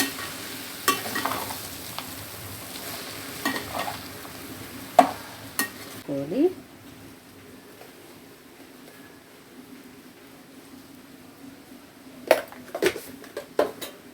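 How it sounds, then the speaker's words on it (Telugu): Soaked poha stirred and mixed in a pan, a quiet sizzle under repeated scraping and clinking spoon strokes against the metal, busy at first, then a lull before more stirring. "పోహాన్ని వేసుకోవాలి వేసుకొని అంతటికి కలిసేటట్టు కలుపుకోవాలి"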